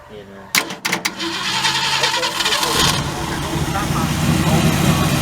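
A 1967 Ford Galaxie 500 engine fires up for the first time after 25 years: a few sharp cranking bursts, then a rough, loud, close idle that keeps running, with people talking over it.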